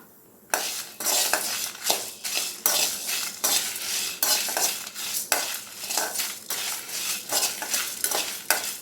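Whole Chettinad masala spices are dry roasted in a kadai, with a spoon scraping and stirring in a steady rhythm of close, repeated strokes and faint pan clinks, no voices.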